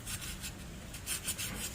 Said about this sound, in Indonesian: Kita amplas ya teman-teman.